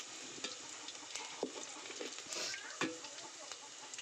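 Bay leaf, onion and green chilli frying gently in oil over low heat for khichuri, a soft steady sizzle with occasional stirring clinks, and a voice faintly audible nearby.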